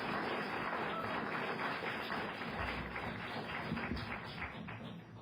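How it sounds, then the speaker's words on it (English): An audience claps after testimony at a WMATA public hearing on the Takoma Metro development. The dense, steady patter of applause continues for several seconds, then begins to fade near the end. "please refrain from applauding"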